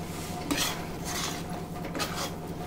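A spoon stirs green peas into a street-style chaat mixture, giving soft clinks and scrapes against the vessel in a few short strokes. The sounds are quiet and have no talking over them.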